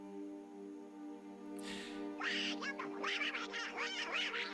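A duck quacks in a quick series of loud, close calls after a short breathy rush, standing alone against a steady tonal hum.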